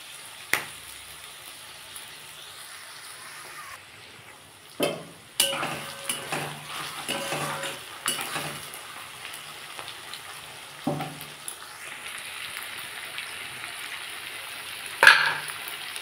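Chopped onions with a pinch of sugar frying in a pan for a coriander chicken curry, a soft continuous sizzle broken by several sharp clinks and scrapes of a spoon stirring against the metal.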